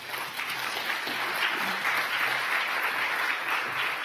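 An audience at a conference hall applauds steadily to welcome speakers Janet and Sam Brill, a sustained even clapping from a sizable crowd lasting throughout.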